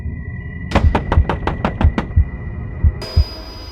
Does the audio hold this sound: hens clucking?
no